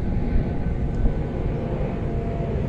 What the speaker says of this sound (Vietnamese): máy bay này nó to lắm các bạn, chiếc máy bay này mình thấy gầm rú rất là to luôn các bạn